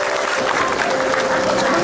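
A studio audience at an Indonesian comedy talk show claps in a sustained, dense burst of applause that fills the whole moment, with faint crowd murmur underneath.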